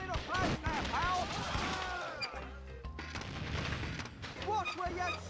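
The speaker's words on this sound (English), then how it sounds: "Watch where you're shooting!" Gunshots in the pirate adventure game The Curse of Monkey Island land as a few booming, sharp reports, mixed with character voices speaking throughout.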